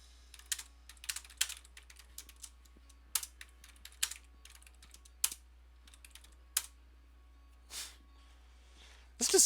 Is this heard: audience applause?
no